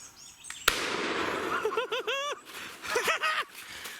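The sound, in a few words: gunshot at a wild turkey while hunting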